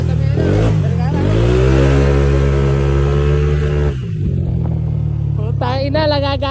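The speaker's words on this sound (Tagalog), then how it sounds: "nagagalit yung makina" A motorcycle engine being tuned at a shop revs hard and holds a loud, rising whine, then drops off abruptly, followed by a brief lull and a sharper burst of revving near the end.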